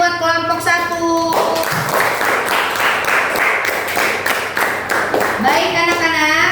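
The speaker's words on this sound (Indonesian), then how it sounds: "tepuk tangannya buat kelompok 1." Children in a classroom clap together for a group, a dense burst of rapid claps lasting several seconds, with a voice heard before and after.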